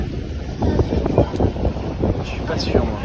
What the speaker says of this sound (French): on se retrouve ici dans un bateau vers les îles du Salut, dans un catamaran à moteur